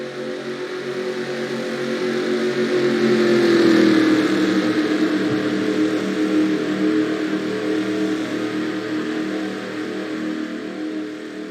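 Race cars in the NR2003 racing game at Daytona roll toward the start-finish line, their engines a steady, loud droning roar that swells around four seconds and then holds, with no voices.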